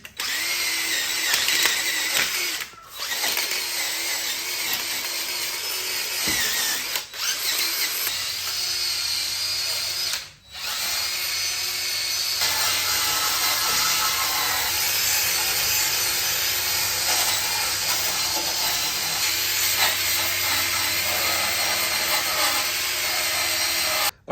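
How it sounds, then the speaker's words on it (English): Wire wheel on a power tool stripping rust from the front end of a big-turbo Toyota Hilux, a continuous harsh high-pitched whirring grind, close and loud, with a couple of brief pauses, no talking. "let's get the wire wheel on it"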